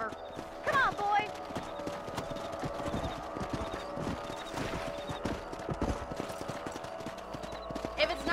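Horse hooves clip-clop steadily in Red Dead Redemption, a rhythmic trot heard close over a game soundscape, with a brief whinny near the start and a voice talking over the hoofbeats.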